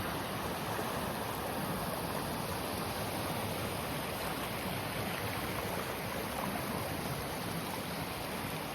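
A river flowing steadily, a dense continuous rush of water that stays loud and close throughout with no pauses or voices.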